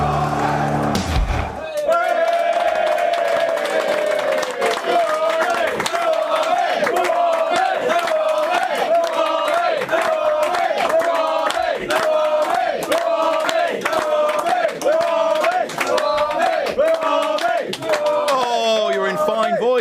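A capacity football crowd chanting in rhythmic unison and cheering, loud and sustained with a repeating pulse of voices, after a brief spoken announcement at the start.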